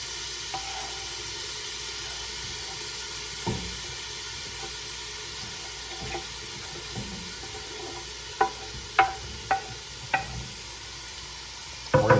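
Diced onion and carrot sautéing in a pan for a meatball sub, a soft continuous hiss. A few sharp knocks of a spoon against the pan come in a cluster toward the end.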